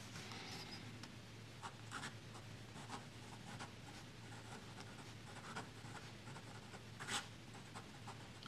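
A Pilot Custom 742 fountain pen with a posting (PO) nib writes on good-quality paper, giving a faint, steady scratching with soft strokes and occasional sharper ticks, close and quiet with no talking.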